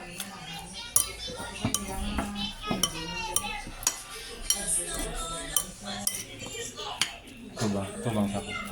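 Salad of lettuce, avocado and cucumber being tossed with a mayonnaise and lemon dressing, utensils clinking and scraping against the bowl in an irregular rhythm, close by, with a voice talking over it.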